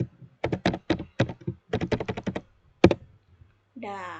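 Rapid, close keystrokes clatter on a computer keyboard as a password is typed into a MySQL command line, in uneven bursts of clicks with short gaps, followed by a brief voice at the end.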